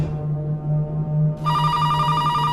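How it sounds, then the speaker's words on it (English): A landline telephone suddenly starts ringing partway through, loud and close, over a steady low hum. "the phone rang louder"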